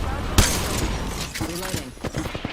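Gunfire in the video game Apex Legends: one sharp loud shot, then a scatter of rapid lighter shots and mechanical clicks, mixed with voice.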